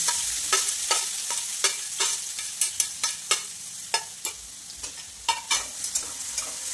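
Green chili, garlic and ginger sauté in a pan with an even hiss, punctuated by a brisk, irregular series of sharp spatula taps and scrapes against the metal.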